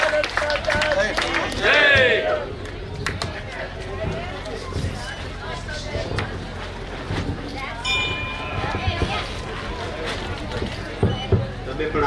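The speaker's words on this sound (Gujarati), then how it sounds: "આપણે તાળીઓના ગડગડાટથી તેમને વધાવીશું." A crowd applauds honorees at a temple felicitation ceremony, with sustained clapping and crowd babble running throughout, mixed with voices and background hubbub.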